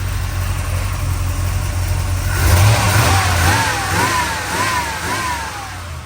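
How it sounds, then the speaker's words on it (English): A crate motor swapped into a car revs up with a rising, wavering engine note over a steady low rumble, then settles back; close and loud, with no talking. "rev's good, everything's perfect on it. It just runs like a champ."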